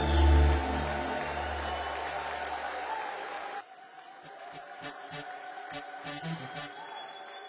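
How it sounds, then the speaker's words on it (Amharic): Enthusiastic applause and high ululation from a church congregation praising Jesus at a gospel worship concert, loud and dense at first, then dropping abruptly to lighter scattered clapping. "ከፍ ያለ እልልታ ጭብጨባ ለጌታ ለኢየሱስ"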